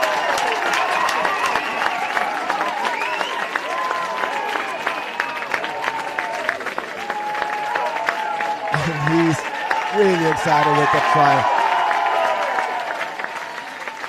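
A crowd applauds and cheers at an amateur rugby club match after a try, a sustained rumble of clapping and voices under close commentary.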